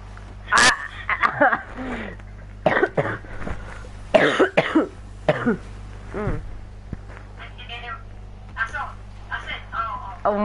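Loud, close coughing from a player during a Rocket League match, a sharp burst followed by a run of rough coughs mixed with fragments of voice, over a constant low electrical hum.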